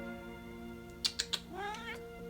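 A cat named Todd lets out a short burst of clicks followed by a rising, drawn-out meow, close and fairly soft over a steady background hum.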